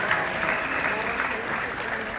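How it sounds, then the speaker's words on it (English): Sustained audience applause fills the room, a steady dense wash of clapping that holds at an even, fairly loud level throughout with no talk over it. "Let's give her a round of applause."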